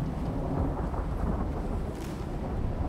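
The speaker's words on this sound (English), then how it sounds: "we have a bad flash storm coming in with lightning" Dense, steady roar of a lightning storm in the survival game Icarus, low rumbling thunder with rain noise filling the whole stretch, no clear separate strikes, heard alone without voices.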